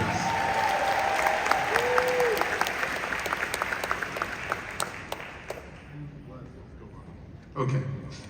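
Applause from a travel marketing convention audience for its ambassadors, dense clapping that thins out and fades toward the end, with a brief burst of voice or noise near the close.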